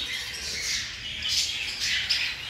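Several cockatiels in a flight cage, including black-headed and emerald birds, give loud, harsh repeated squawks that come in bursts close by, with no talking over them.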